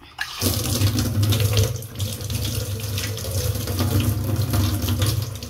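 Tap water runs steadily into a sink to rinse a peeled ridge gourd, a continuous close splashing flow that starts abruptly and holds its level to the end, with no talking.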